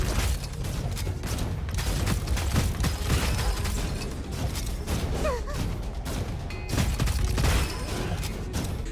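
Dense, continuous combat in the mobile shooter Gunfire Reborn with rapid gunfire bursts, booms and mechanical clatter layered together at steady loudness, no talking.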